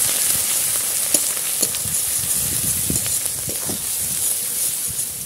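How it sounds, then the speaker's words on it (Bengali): Spice masala of cumin, coriander, turmeric and chili powder sizzles in hot oil while being stirred, a close crackling fry with irregular scraping and clacking strokes, no speech. "এবার ভালো করে কষিয়ে নেব।"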